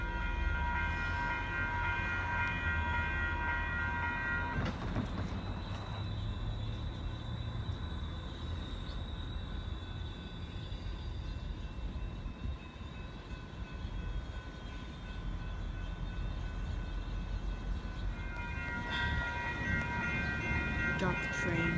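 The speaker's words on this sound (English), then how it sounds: "Got the train." Train passing in Encinitas with a steady, loud rumble of rail cars and wheels throughout, a brief horn-like tone, and faint voices underneath.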